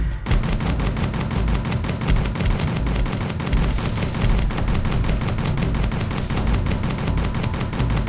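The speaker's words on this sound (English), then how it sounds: "We're just firing just directly into the vehicle." Sustained .50 caliber machine-gun fire pounds directly into an armored vehicle in Kerbal Space Program, a dense, loud, unbroken rattle lasting the whole stretch with no talk.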